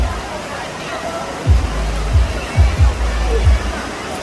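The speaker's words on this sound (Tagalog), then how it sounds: "Yan yung tubig falls, oh." Taytay Falls in Laguna roars as a steady rush of falling water, with low thumps and a busy crowd murmuring faintly beneath it.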